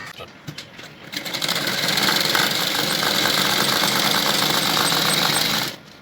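A sewing machine runs steadily for several seconds, stitching the leg band onto a baby bloomer. It starts after a brief pause and stops near the end, loud and close, with no talking.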